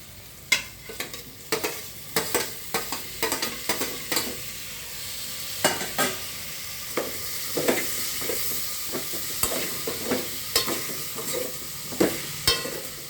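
Tomatoes fry in a hot pan while a utensil stirs them, sharp scraping clacks landing in an irregular rhythm over a soft steady sizzle, close and clear with no talking.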